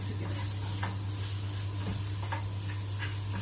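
Garlic sizzles steadily in ghee in a pan, a dense continuous crackle with faint stirring scrapes and a low steady hum beneath, no talking.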